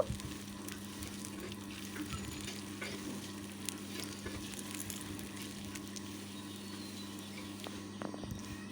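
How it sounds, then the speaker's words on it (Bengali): Masoor dal bori frying in hot oil in a village kitchen, a soft continuous sizzle with scattered light pops and crackles, fairly quiet and steady throughout. "এখন আমি মুসুর ডালের বড়িগুলো ভেজে নেব"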